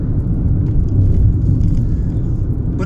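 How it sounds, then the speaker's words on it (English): Inside a 2015 third-generation Skoda Fabia, the 1.0 MPI three-cylinder engine gives off a low, steady drone. The rumble is loud and close, with no voices over it. "It's just a three-cylinder noise."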